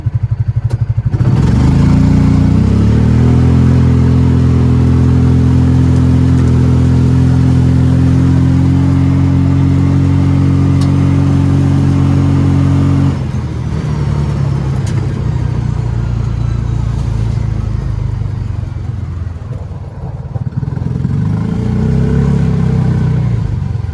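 Vehicle engine running steadily, then pulling forward after the brake is released, with a loud, close, sustained hum whose tone shifts partway through and later rises again as it moves off.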